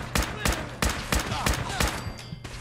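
Gunshots in Fallout 4 ring out in an evenly spaced string of about seven loud, sharp blasts, each with a brief tail, close up over a faint low hum.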